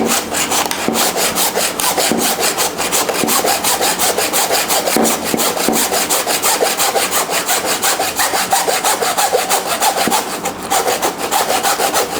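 A hand saw cutting through pork rib bone while a pork front leg is butchered, a loud steady rasping of quick regular back-and-forth strokes that runs continuously and close up, with no talking.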